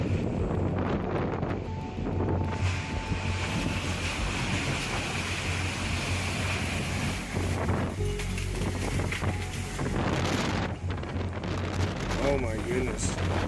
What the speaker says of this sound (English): the wind is whipping those wires